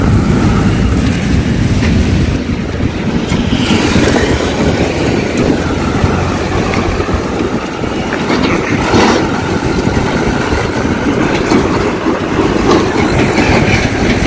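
Train running along a railway track below a bridge near Kadapa, heard from above as a steady, loud rumble with clattering wheels that carries on for the whole stretch, mixed with nearby road traffic and no talking.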